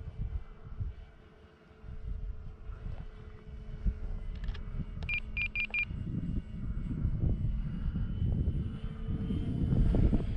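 An E-flite T-28 radio-controlled model airplane flying at about three-quarter throttle, its motor droning steadily and swelling louder toward the end, with wind buffeting and a few short high beeps midway.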